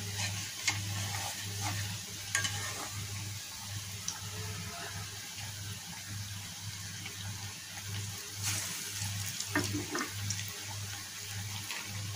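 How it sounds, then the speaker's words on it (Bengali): Pointed gourd vines fry in a pan with a steady, moderate sizzle and occasional scraping stirs, over a low constant electrical hum. "এইভাবে দিয়ে দিয়ে আমরা ভেজে নেব সবগুলো"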